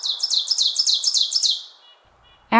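An ovenbird warbler sings a rapid, loud series of repeated two-part chirping notes, about eight in a rising-intensity rhythm, then fades out. A brief sharp sound follows at the very end.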